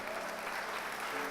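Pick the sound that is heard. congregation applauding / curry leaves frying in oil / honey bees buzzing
congregation applauding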